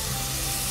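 Diced fresh tomatoes and translucent vegetables sauté in a hot pan, giving a dense, steady, loud sizzle and hiss close up, with no pauses or voices over it.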